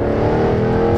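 Jaguar F-Type R (2015 AWD) engine revving with its exhaust valves open, a loud, sustained, throaty engine note that holds steady throughout, close and alone with no talking.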